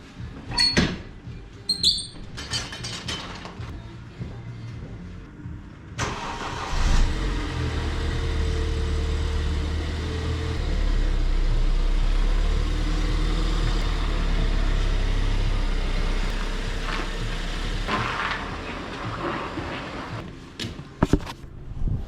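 A BMW car engine from an auction car with a previously seized motor starts and runs after its first start, a low steady idle rumble lasting several seconds after some clicks and handling noises, near and moderate, without talking.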